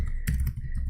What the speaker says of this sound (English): wow, I'm not typing well.